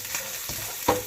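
Garlic browns in a frying pan with oil for vegetarian fried rice, a steady low sizzle broken by a couple of stirring scrapes, the last one louder and close.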